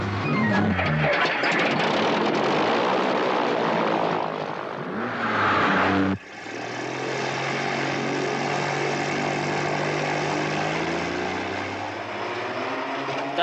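A propeller airplane drones loud and close in flight, a dense steady engine roar that dips briefly and then surges back into a sustained, slightly throbbing hum.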